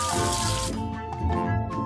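Water runs steadily from a tap in a kids' educational washing game, a continuous splashing hiss that dips briefly partway through, with light musical tones underneath.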